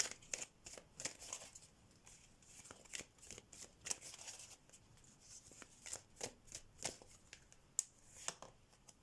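An oracle card deck being shuffled by hand, soft close riffling and flicking of cards in quick irregular bursts, quiet and without talk.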